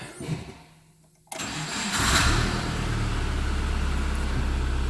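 A starter cranks briefly, then a 2000 Subaru Impreza engine catches and settles into a loud, steady rumble close by.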